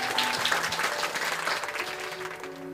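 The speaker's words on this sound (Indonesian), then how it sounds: "Tepuk tangan yang meriah buat Tuhan." A church congregation claps enthusiastically, a lively wash of many hands with faint tonal music underneath that softens slightly toward the end.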